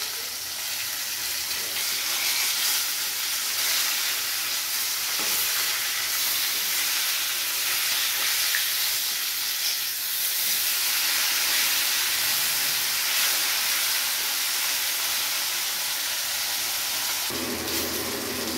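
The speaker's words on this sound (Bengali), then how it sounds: "মাছটা ভালো করে লাল করে ভেজে নিলাম।" Pieces of fish frying in oil until reddish-brown give a steady, dense sizzle and hiss that continues unbroken from start to finish, close and even in level, with no voices.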